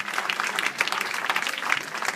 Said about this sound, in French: On les applaudit très fort, la FNCTA.